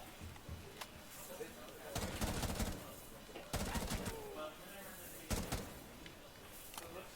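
Bursts of gunfire from Rainbow Six: Siege, shots fired through a wall during a mission, come in several sharp volleys at moderate level, interleaved with quieter game ambience.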